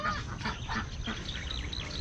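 Ducklings quacking in a group outdoors, a run of quick, overlapping quacks and honking calls, close and moderately loud with no talk.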